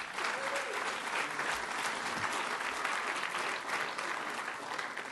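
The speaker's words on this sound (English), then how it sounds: "let's just give her a round of applause right now" Audience in a conference ballroom applauding a speaker, a steady dense wash of clapping from many hands sustained throughout at moderate distance.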